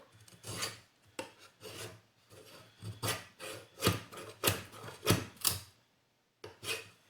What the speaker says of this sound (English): I'm just going to put up this piece of wood and cut downward.